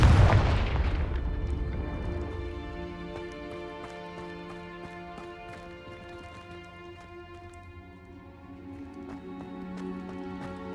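A Confringo blasting spell goes off in Hogwarts Legacy with a loud, deep boom at the start that fades into a long ringing, shimmering tail, while faint crackles and pops scatter through the rest.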